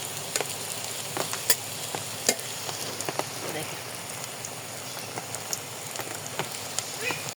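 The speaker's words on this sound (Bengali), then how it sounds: "এই যে ভালো মতো ভাজবো" Pakora made with pointed gourd fries in oil, a continuous crackling sizzle broken by sharp popping spatters, heard close with a voice talking over it.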